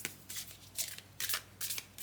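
Several quick bursts of pocket-size Kali oracle cards being riffled and shuffled close up, each lasting a fraction of a second with short pauses between them.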